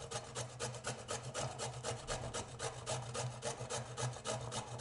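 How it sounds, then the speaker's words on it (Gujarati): Peeled sweet potato is rubbed against a coarse, large-holed grater in quick rhythmic rasping strokes, close and fairly quiet, repeating evenly with no speech. "સકરિયા આપણે છીણી લેશું, જેના માટે આ રીતે મેં મોટા કાણાની છીણી લીધેલી છે"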